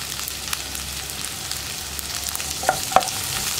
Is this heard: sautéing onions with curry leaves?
yes